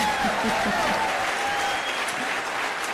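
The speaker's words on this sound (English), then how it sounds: "Give yourself a hand clap." A crowd claps steadily at an outdoor political rally in the rain, dense applause running throughout, with a voice briefly heard over it.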